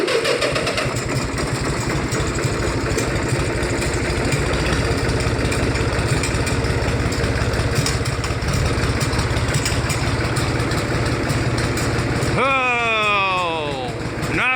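An International 484 tractor's diesel engine runs at a steady, loud idle with a rhythmic low chug throughout. Near the end the pitch sweeps sharply as the revs change, and someone talks briefly over the engine.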